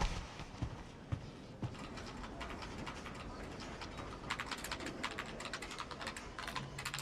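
Keyboard typing from a video game trailer shown at Summer Game Fest: rapid, close clicking keystrokes over a busy background, with soft pigeon-like cooing mixed in.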